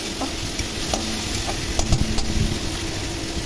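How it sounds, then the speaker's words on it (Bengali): Cumin and dry chili paste sizzle with fried potatoes while being stirred in a pan, a steady close hiss broken by light scraping strokes of the spoon, with a faint hum beneath and no talking. "প্রথমে দিয়ে দিলাম জিরে ও শুকনো লঙ্কা বাটা। এগুলো দিয়ে একটু নাড়াচাড়া করে নেব।"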